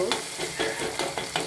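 Masala and chili powder frying in hot oil for a gravy, a close sizzle with rhythmic stirring scrapes repeating about every quarter second.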